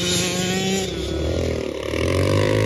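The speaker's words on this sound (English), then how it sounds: "Look at this fucking little two-stroke go." A small two-stroke engine vehicle revs hard and continuously, giving a buzzy, raspy whine that rises and dips in pitch, loud and close throughout.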